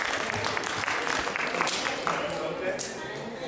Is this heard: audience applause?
yes